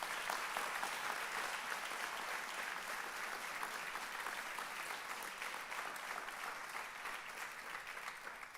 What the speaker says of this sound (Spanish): démosle una ofrenda de palmas fuerte al Señor